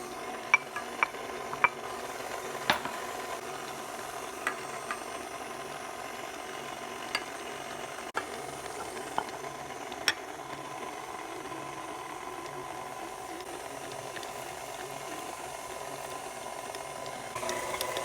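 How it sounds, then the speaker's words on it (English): A stand mixer running on low speed kneads pizza dough made with semolina flour, giving a steady mechanical whir with faint rhythmic clicks throughout, alone and without talk. "you're going to let this dough at low for 3 minutes so it starts pulling away from the side of the bowl"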